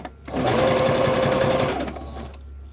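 Sewing machine stitching a straight or zigzag stitch on primitive journal tags, a close, loud, rapid whirring burst of about one and a half seconds that then winds down.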